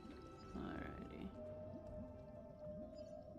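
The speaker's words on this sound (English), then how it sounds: "You hear the whale song?" Low, moaning whale song from the video game Honkai Star Rail, a couple of drawn-out tonal calls over a soft game soundscape, fairly quiet with a sustained hum beneath.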